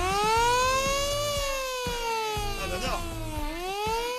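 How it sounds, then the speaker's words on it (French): A battery-powered siren from a Riva Super Florida boat being tested, a loud, steady wailing tone that rises and falls slowly over several seconds, close by. "Vérifier un élément important pour la sécurité du Riva, la sirène."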